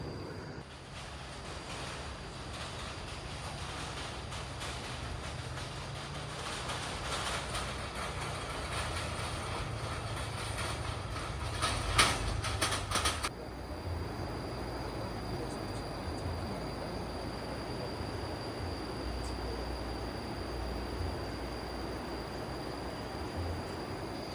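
A train rumbles past on the Cisomang bridge, swelling to a loud, rattling roar before cutting off and leaving a steady hum with a faint high whine.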